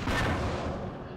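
Tank cannon fire in the John Tiller Campaign Series West Front wargame, a single loud, heavy boom that rolls out and decays across just over a second, with no talking.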